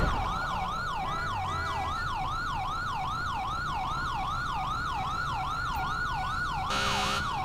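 A police car siren in GTA V yelps continuously in rapid, regular up-and-down sweeps, steady and moderately loud throughout, with a brief noisy burst near the end.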